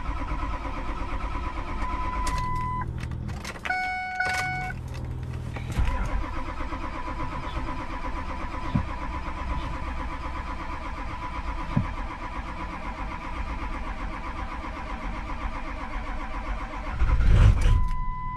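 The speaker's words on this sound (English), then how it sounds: "The reason for it being like a long crank like this is because obviously there's no oil in the fuel" A 6.0L Powerstroke diesel engine cranks at length with a steady, rhythmic starter churn, an even drone that runs for most of the stretch before the engine finally catches with a louder surge near the end.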